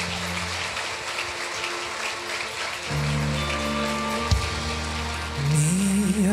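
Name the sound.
applause in church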